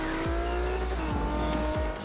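A Ferrari F50 races in Forza Motorsport 5, its engine revving hard and loud up close, with three quick gear changes each dropping the pitch before it climbs again.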